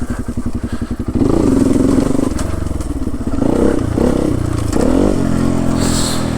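A Beta 125 RR LC two-stroke motorcycle idles with rapid popping pulses, then revs up and down through several loud, close bursts of acceleration, with no speech.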